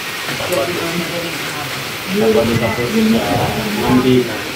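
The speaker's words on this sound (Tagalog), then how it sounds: "lumalakas na ang ulan" Heavy rain pours down during a typhoon in Taisan, a dense, hissing wash that grows louder partway through, with people talking over it.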